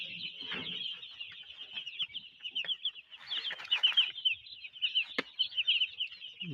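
A broiler hen brooding makes a run of soft clucks, joined by a steady stream of high, thin peeping in short uneven bursts, fairly close and without speech.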